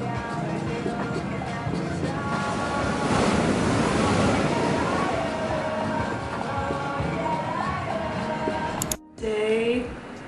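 Ocean waves and surf at a Puerto Vallarta shore, a loud continuous wash of breaking water mixed with heavy wind buffeting the microphone, close and steady, with a brief cut near the end.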